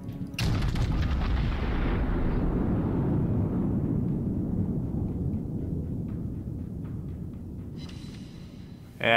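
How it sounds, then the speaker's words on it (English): The battleship Musashi fires a heavy gun salvo in a naval video game: a sudden loud blast rolls into a long, deep rumbling boom that fades over several seconds before another sharp burst hits at the end. "I should actually get a decent salvo off on him"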